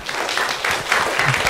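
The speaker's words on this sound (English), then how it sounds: "So let's give them three all a big applause." Applause from a lecture audience at the HKIAS Rising Star Lecture, a short burst of steady, moderately close clapping with no talk over it.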